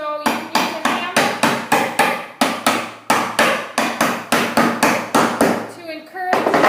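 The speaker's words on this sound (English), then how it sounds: "sometimes the wood over time can dry out and warp just a little bit, so you can use a hammer" A hammer taps the warped side of a wooden beehive frame into place with about fifteen sharp, evenly spaced knocks, loud and close, ending with a short scrape.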